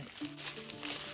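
Plastic packaging from a diamond painting kit crinkles and crackles in a brief, close burst of rustling with no talk over it.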